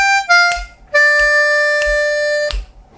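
Blues harmonica playing a 12-bar blues lick, a few sustained reedy notes with breathy attacks and short pauses between them, close and clear, no voices.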